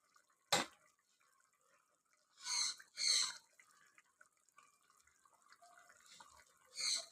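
A little water is added to chicken cooking without oil in a pan, heard as a few short, faint splashes and drips separated by near silence.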